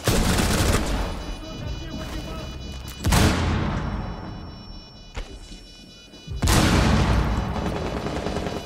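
Gunfire from Rainbow Six Siege comes in loud bursts, with a rapid volley at the start and heavy blasts around three and six seconds, quieter shots in between and a faint player voice under the game sound.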